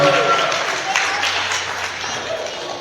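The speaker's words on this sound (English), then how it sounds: "So let's give our sponsors a round of applause" Applause from a crowd at a summer camp gathering rises briefly and fades, a dense patter of clapping with faint background voices beneath.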